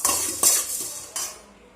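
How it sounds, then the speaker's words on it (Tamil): Black pepper and cumin dry-roasting in a pan without oil, a spoon scraping and clinking against the metal in three loud bursts, each fading into a soft rattle of seeds. "நல்லா எண்ணெய் ஊற்றாமல் நல்லா ட்ரையாக வறுத்துருங்க."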